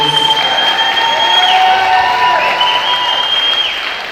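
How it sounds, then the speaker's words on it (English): An audience at a social history book launch gives a sustained round of applause, a dense wash of clapping that tapers slightly toward the end, with steady tonal ringing over it. "another big round of applause."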